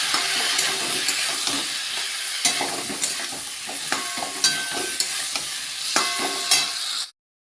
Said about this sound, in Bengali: এবার জল দিয়ে দিচ্ছি অল্প অল্প করে।